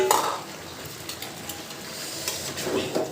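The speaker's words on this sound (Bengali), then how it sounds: "টমেটোটি দিয়ে ভালো করে একটু কষাবো" Tomato stirred into a potato curry in a pan makes a soft, steady sizzle with light scraping and clinks of a spoon, close and moderately quiet.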